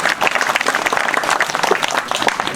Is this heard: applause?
yes